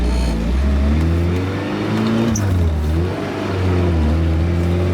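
A 1985 Pininfarina Spidereuropa engine idles after a cold start, then revs in a couple of smooth rises and falls, loud and close with steady harmonic drone and no talking.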